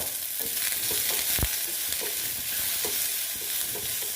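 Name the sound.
frying fish fat with turmeric in a pan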